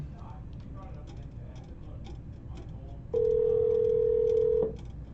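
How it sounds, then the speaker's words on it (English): A telephone tone sounds during a call, a steady single-pitch beep lasting about a second and a half, loud and close, after background chatter and room noise. "Let's get Terrence on the phone."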